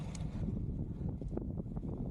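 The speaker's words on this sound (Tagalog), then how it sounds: "sobrang lakas yung hangin" Strong wind buffets the microphone during a 50 km bike ride, a low continuous rumbling roar with gusty fluctuations, close and unbroken.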